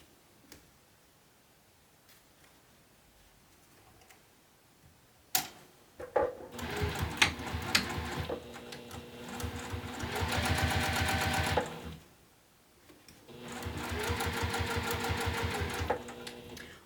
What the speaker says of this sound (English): I'm going to sew this on the top of the front of my bag exterior.